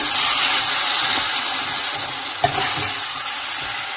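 Onion, tomato and masala sautéing in a pan with a little water for a papad curry, a steady close sizzle with soft stirring scrapes and one brief clack of a spoon against the pan.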